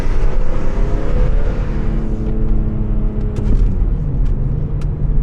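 A car engine rumbles deep and loud while driving at night through Boston, a low, steady roar with slight rises in revs, close by and continuous with no talk.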